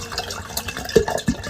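Alkaline water poured from a container, heard as a few short splashing bursts close by against a quiet background.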